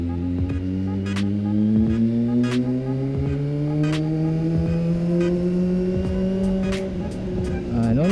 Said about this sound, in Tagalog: Traffic talaga boy pag Sabado.